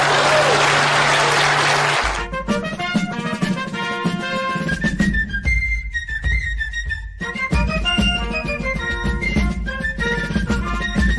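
Audience applause at a live political talk show, a dense burst of clapping for about two seconds that then gives way to music with steady tones and a beat carrying on to the end.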